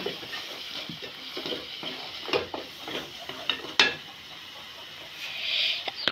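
Noodles with coriander powder and noodle spices are tossed in a pan, giving soft scraping and clinking of a utensil against metal over a faint sizzle, with irregular taps and a few louder knocks, close and moderately quiet.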